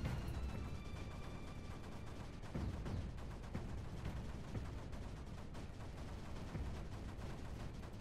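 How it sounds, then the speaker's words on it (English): Mortars and cannons fire continuously in the strategy game Creeper World 4, a dense, fairly quiet barrage of rapid overlapping thumps and cracks with no gaps. "Let's get some mortars in to actually cut down on the quantity."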